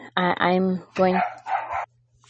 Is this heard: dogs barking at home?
yes